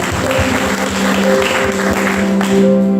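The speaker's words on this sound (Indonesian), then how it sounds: "Tepuk tangan untuk kemuliaan Tuhan." Church congregation applauding during a Sunday worship service at GBI Rajawali Bandung, a steady wash of clapping from many hands that runs loud and even for the full three seconds, over a sustained musical tone.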